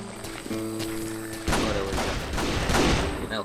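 Six-shooter revolver fire in the Western video game Call of Juarez: Gunslinger, several sharp shots in quick succession over a game soundtrack, with sustained crackling reports after the first volley.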